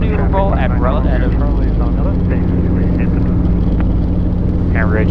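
Steady, loud rotor and engine drone inside a Robinson R22 helicopter in flight on a training lesson, with voices talking over the noise throughout.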